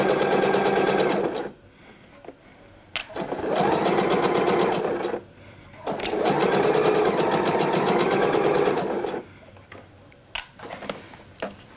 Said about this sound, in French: On coud à 1 cm du bord